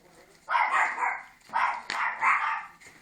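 Dogs bark near the microphone in short bursts, three or four loud yapping barks spread over a few seconds.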